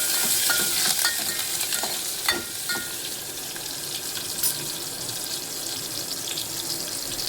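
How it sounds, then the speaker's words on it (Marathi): Tomatoes and curry leaves go into a hot cumin and garlic tempering for dal. A loud wet sizzle starts with a burst of spattering, then settles into a steady hiss, and no one speaks. "आता टोमॅटो टाकते. कढीपत्ता टाकते."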